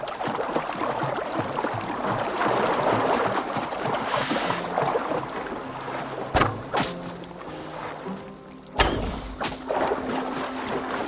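A longboat glides across water in Assassin's Creed Valhalla, with a continuous wash of water and wind and occasional splashes and thumps from the hull and oars, steady and close.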